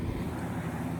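A steady low whooshing hum of an electric fan blowing air in a metal shop, set on an English wheel, constant and fairly close, with no talking.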